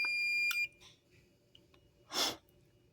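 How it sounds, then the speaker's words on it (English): A Fnirisi DMT-99 multimeter gives a loud, steady electronic continuity beep for about half a second at the start, followed by quiet handling noise and a soft breathy rush. "I was going to let you hear the beep."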